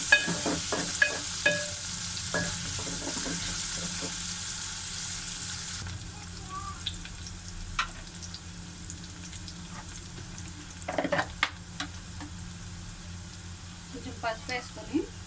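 Chicken for gongura chicken fries in a pan, with sizzling and scraping stir strokes, loud at first and then quieter with intermittent clatter as stirring continues; a voice talks at times over it.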